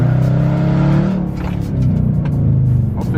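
A Dodge Charger RT with a 345 engine revs hard in first gear during a night drive, a loud close throaty roar climbing in pitch, dipping briefly, then rising again.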